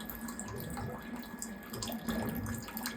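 Water runs steadily from a tap while a boat's water heater is being emptied, a continuous, fairly quiet splashing flow with no talking.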